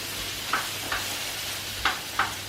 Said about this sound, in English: now that's sizzling away